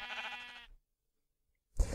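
A Minecraft sheep gives a single clear bleat, followed by about a second of silence, and a second bleat begins at the very end. Both sound close and fairly quiet, with no speech.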